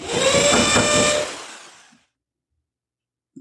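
A power drill whirs loudly for about a second and a half, then winds down and stops, leaving silence broken by a faint click at the end.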